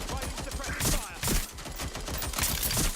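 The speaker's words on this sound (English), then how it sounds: "Gunshots. Help!" Rapid bursts of Watch Dogs: Legion gunfire crackle continuously, dense and loud, with a few heavier volleys standing out.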